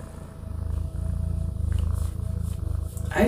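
A shedding house cat purrs up close, a steady rhythmic rumble running continuously with brief breaths between cycles and no talk over it.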